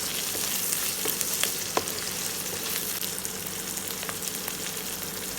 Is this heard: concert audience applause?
no